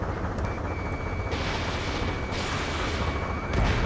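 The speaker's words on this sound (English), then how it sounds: "gunfire and a roar of jets echoing through the streets" Gunfire in the Ace Combat 7 video game, heard as a dense rumbling bed of battle noise with sharp bursts breaking through at intervals, over a city under martial law with jets roaring.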